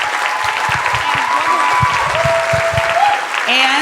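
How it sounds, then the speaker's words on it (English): An audience at a ballet benefit evening applauds the dancers, loud sustained clapping with cheering voices and a few whoops rising over it. "one more round of applause for our dancers"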